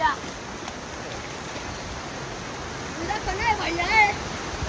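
A fast-flowing waterfall at Pemgiri roars as a constant broad rush of water, with someone talking over it toward the end.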